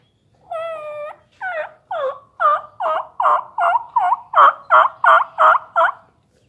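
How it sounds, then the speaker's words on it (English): A series of about a dozen raspy, rhythmic turkey hen yelps, loud and close, building in intensity with a Primos raspy hen call device. "Now here's the raspy hen from Primo's."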